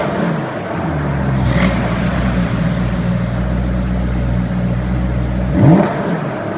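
A BMW M3 engine revs loudly and close up in a rev battle, holding a sustained high drone with a sharp rise near the end.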